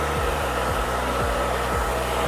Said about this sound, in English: Just keep the air of the blow dryer moving, don't keep it too long in one spot, just keep it moving.